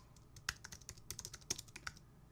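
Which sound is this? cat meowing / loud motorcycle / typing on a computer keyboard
typing on a computer keyboard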